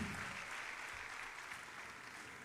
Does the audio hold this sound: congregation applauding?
yes